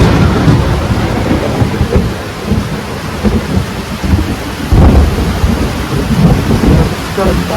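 Heavy rain pouring steadily with deep rolling thunder rumbling through, loud and close, with a stronger crack and surge of rumble partway through; no voices heard.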